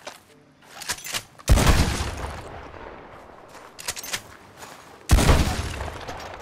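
Two heavy shotgun blasts in the game Red Dead Redemption 2 boom loudly and decay with a long rumbling tail, separated by a few seconds of quieter clatter and footsteps.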